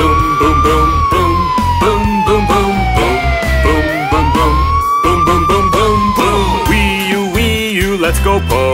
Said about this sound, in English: Vroom, vroom, a red fire truck.